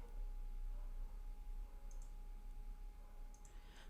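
A computer mouse clicks a couple of times on Windows while settings are being confirmed, giving faint, sharp double clicks over a steady low hum.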